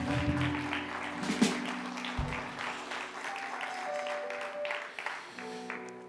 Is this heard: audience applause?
yes